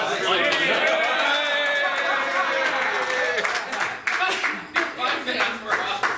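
An audience at a 50th birthday roast claps, with a speaker's voice running over the applause at first and scattered hand claps carrying on near the end.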